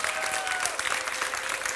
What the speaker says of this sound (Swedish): Jag tycker att vi ger de sex forskarna en stor applåd